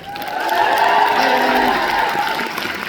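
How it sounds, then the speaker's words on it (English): A Liverpool Comic Con panel audience applauds and cheers loudly, the clapping swelling and holding steady with a tonal hum running beneath. "Round of applause."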